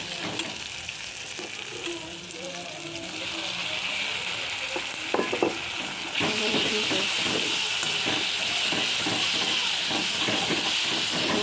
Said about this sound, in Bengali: দেখো এখন মাংস কষানো হচ্ছে।